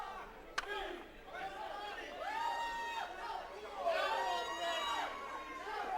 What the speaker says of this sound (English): the Vandal crowd is loving it.